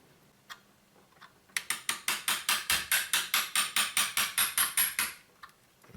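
Airsoft parts clicking as a bolt release is fitted into a Tokyo Marui MP7 electric gun: a fast, even run of about twenty sharp ratchet-like ticks, close and loud, framed by a few isolated clicks before and after.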